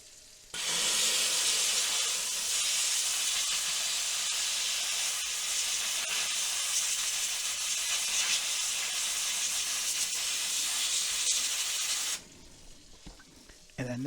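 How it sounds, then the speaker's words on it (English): A steam cleaner gives a loud, steady hiss for about eleven seconds as it blasts gold-filled watch band covers, then cuts off abruptly into quiet room noise with faint handling sounds. "And we'll steam this off now."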